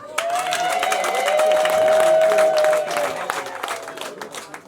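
Loud, sustained applause and cheering from a crowd at a Catholic wedding ceremony in Rwanda, swelling in the middle and tapering off, with a sustained tone held over the clapping.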